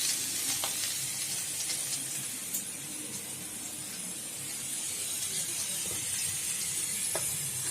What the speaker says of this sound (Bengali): আদা বাটাটা একটু ভালোভাবে নাড়াচাড়া করতে হবে। একটু ভাজা ভাজা হয়ে গেলে